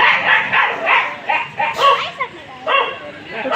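Several dogs bark and yelp in a scuffle, with repeated overlapping barks and whimpering cries at close range, while people talk nearby.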